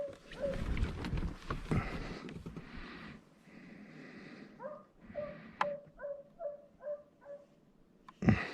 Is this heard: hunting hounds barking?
yes